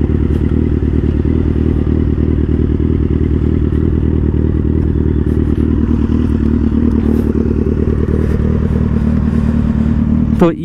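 A Kawasaki Z800 fitted with an aftermarket exhaust runs close by in a steady low, throbbing idle with a rough clattering edge, loud and continuous, with some speech and a brief scrape near the end.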